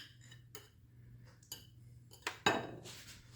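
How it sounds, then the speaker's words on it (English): A utensil knocks and clinks against a bowl while boiled eggs are chopped and smashed for deviled eggs, a few sharp isolated taps over a low hum, ending with a louder clatter. "So I'm just gonna really chop it up fine"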